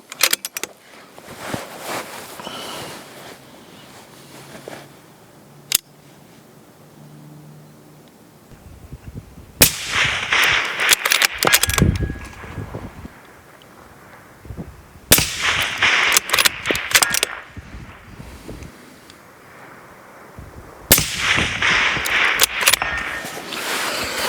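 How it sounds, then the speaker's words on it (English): Three rifle shots fired one at a time at a long-range target outdoors, spaced about five to six seconds apart. Each is a loud crack with a long rolling tail over quiet background rustle. "You want to be able to track your shots. So here we go. We'll do 3 in a row."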